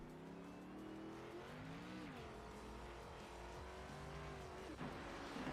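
A damaged race car at a Dover 75 event rolls down pit road, its engine droning steadily with wavering pitch as it shifts and changes speed, fairly faint and heard without talk.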